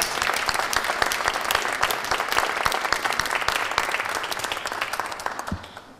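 Audience applause after a school performance by Nativity School students in Harrisburg, a steady, dense clapping from a crowd that holds for several seconds and fades out at the end.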